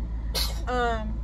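A single sharp sneeze, close and fairly loud, with a voiced tail after the burst, over a steady low background hum.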